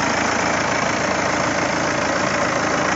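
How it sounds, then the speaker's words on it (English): BMW 1 Series car engine idling steadily in the open engine bay, a constant close hum with no bangs or rattles, heard alone without talk. "the engine's been running since it started, and as you can hear, no bangs or rattles"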